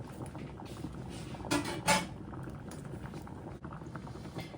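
Water with potatoes in it bubbles and burbles quietly at a steady boil in a pot, with a couple of soft clinks and knocks nearby.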